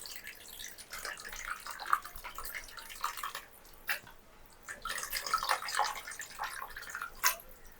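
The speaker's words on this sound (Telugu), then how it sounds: "ఈ విధంగా చెత్త రాకుండా నీళ్ళన్నీ వంపేసుకోవాలి మన చేపల పులుసులోకి." Tamarind water is poured from a vessel into a fish curry, making a quiet, uneven trickle with splashes and drips that come in bursts.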